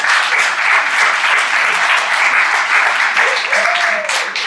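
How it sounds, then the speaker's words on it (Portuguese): A church congregation applauds loudly and continuously, a dense wash of many hands clapping at once with a few voices rising faintly beneath it. "Aplauda bem forte ao Senhor em nome de Jesus."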